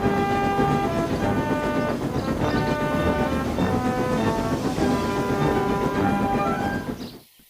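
A train rumbles steadily with sustained whistle-like tones layered over it, then the sound cuts off abruptly.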